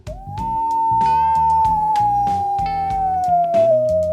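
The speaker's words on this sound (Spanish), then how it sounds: "Cuando los lobos aúllan juntos, es como si cantaran en un coro" A single long wolf howl rises at the start, then holds a steady pitch before sliding down at the end, loud and close, over a rhythmic musical backing.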